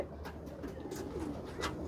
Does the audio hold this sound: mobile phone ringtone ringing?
no